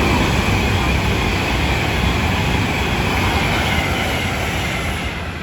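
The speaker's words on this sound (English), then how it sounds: "Soon to pass through now will be a Avanti West Coast service passing from London Euston" Avanti West Coast class 390 electric train running through Milton Keynes Central on the West Coast Main Line, a loud continuous roar and rush of a fast pass, steady and close, easing slightly at the end.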